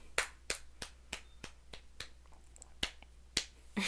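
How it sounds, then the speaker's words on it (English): Sharp hand claps in an irregular run of about a dozen, close and fairly loud, with nothing else but a low steady hum underneath. "Let's clap it up."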